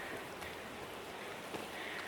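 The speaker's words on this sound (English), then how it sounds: "there's the waterfall." A small waterfall on a Bryce Canyon trail rushes steadily nearby, a soft, even broadband wash of falling water with no voices.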